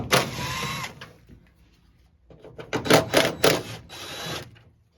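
Bolts on a 2008 Toyota Tundra taillight being backed out with a T30 Torx bit, a short whirring burst of a power driver, a pause, then several more spinning bursts close by.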